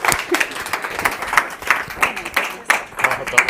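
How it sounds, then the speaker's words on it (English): Irregular clapping from a small audience at a product management meetup, close and moderately loud, continuing with uneven bursts throughout. "Keep clapping."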